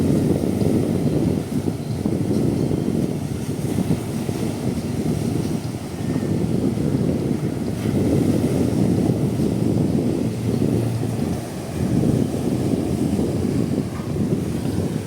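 A small fishing boat rides big waves, with a constant roar of wind and waves buffeting the microphone in surging gusts, loud and continuous, with no voices.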